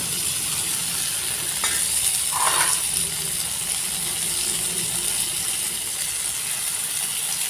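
Spice paste hitting tomatoes frying in a pan, a steady close sizzle with a brief louder burst of hissing and some stirring scrapes.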